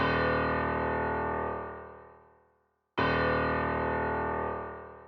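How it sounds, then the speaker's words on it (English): Two sustained piano chords from the FL Keys plugin, each struck loudly, ringing out and fading before the next one lands, with no voices. "next in this intro, you got some piano keys"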